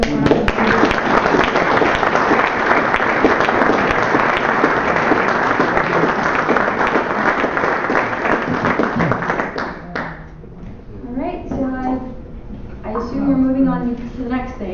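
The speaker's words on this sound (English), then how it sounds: "So I want to give him a round of applause." Audience applause for a visiting wind turbine builder at a workshop, steady dense clapping from a room full of people lasting about ten seconds before fading into talk and laughter.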